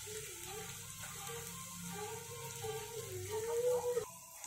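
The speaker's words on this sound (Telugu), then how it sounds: "ఇప్పుడు 2 ఆనియన్స్ కట్ చేసుకొని అందులో ఆయిల్లో ఆనియన్స్ ఇంకా పచ్చిమిర్చి" Sliced onions and green chillies frying in hot oil in a pan: a soft, steady sizzle runs throughout, fairly quiet, with faint clinks and stirring near the end.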